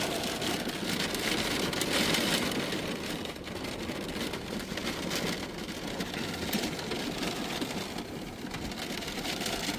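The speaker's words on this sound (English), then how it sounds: "We got ourselves a full-blown rainstorm here" A full rainstorm pounding on a car while camping at a campground, dense steady drumming of rain on the roof and body with a low rumble underneath, continuous and close.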